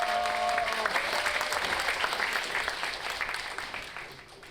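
Audience applause after a lively nanta drum performance at a senior citizens' gathering in Gyeonggi, a broad steady clapping from a large crowd that gradually fades out.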